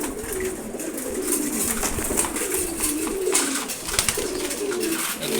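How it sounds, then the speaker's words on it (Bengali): A group of male pigeons coos continuously, their soft, rolling calls overlapping at close range into a steady murmur. "এগুলো সবগুলো নর কবুতর।"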